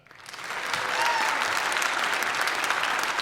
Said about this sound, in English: A big round of applause for Teresa Tonthat.